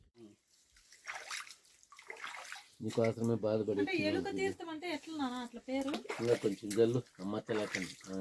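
Spring water runs from the rock at the Eluka Theertham shrine on Mallayyakonda during special pujas, a steady splashing rush heard alone at first and then mostly beneath several people talking.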